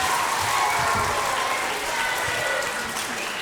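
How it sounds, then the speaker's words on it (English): Audience at an interactive musical performance gives a big round of applause, a thick, even wash of clapping from many hands that fills the whole short stretch at steady loudness. "Give them one more big round of applause."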